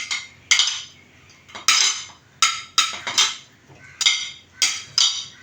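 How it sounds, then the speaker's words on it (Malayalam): A spoon stirs chicken curry in a metal pot, making a steady series of close scraping clinks and knocks against the pan, roughly one stroke every half second. "നന്നായി ഇളക്കുക."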